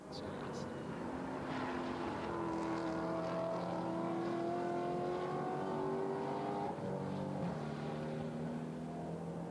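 GT4 race car engine at the Nurburgring, a sustained droning whine with rising and falling pitch as it passes, heard at a distance under a commentator's voice.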